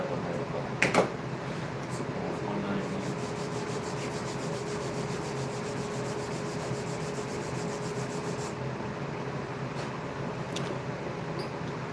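Steady, continuous rubbing and buffing of a horn guitar nut with fine 600-grit sandpaper, a close, even scratchy texture throughout with a couple of brief sharper scrapes near the start.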